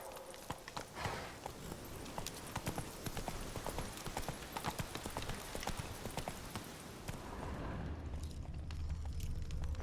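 Galloping hooves of the horse Roach in The Witcher 3 beat out a rapid, steady clip-clop rhythm close up, with a low rumble building near the end.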